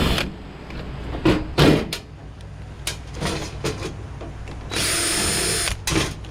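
A power drill undoes screws while a tankless water heater is taken apart for scrap, with several short whirring bursts close by and one longer run near the end, with small clanks between.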